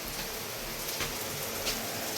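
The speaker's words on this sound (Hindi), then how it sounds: "और ये रही बारिश" Monsoon rain falling in a hill village in Pithoragarh, a steady, dense hiss of drops close by, unbroken and without any talking.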